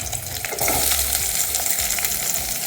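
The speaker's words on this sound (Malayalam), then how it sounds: "ഇനി അരിഞ്ഞ് വെച്ചേക്കുന്ന സവാള ഇട്ട് കൊടുക്കാം." Chopped onions hiss and crackle steadily in hot oil in a pan, with curry leaves and chillies, for a mushroom roast; a dense, loud, continuous sizzle with low stirring scrapes, no voices.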